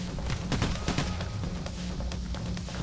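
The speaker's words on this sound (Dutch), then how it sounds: "Ik knal ze gewoon neer." Rapid bursts of gunfire in the video game Payday: The Heist crackle in quick succession over a dense background din, sharp and fairly close.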